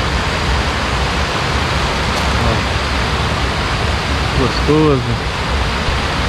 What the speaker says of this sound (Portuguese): Que riozinho aqui, um córrego.